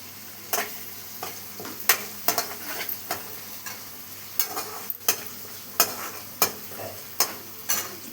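Curry leaves fry in a hot pan with a constant sizzle, punctuated by repeated sharp clicks and scrapes of stirring; no one speaks.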